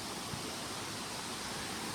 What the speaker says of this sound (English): We're just gonna sit by the water here, drink some of this ice cold water, some fresh mountain water.